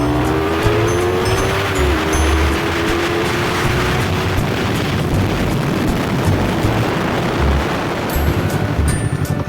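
A motorbike on a test ride at 150 km/h, heard as a loud, constant roar of wind and engine rushing past the rider, with a rising engine note early on and no speech over it.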